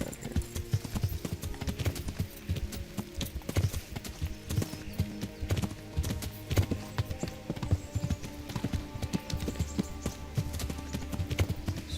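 Horse hooves clip-clopping in the medieval video game Kingdom Come: Deliverance, a steady rhythmic run of close, crisp hoofbeats with a brief whinny.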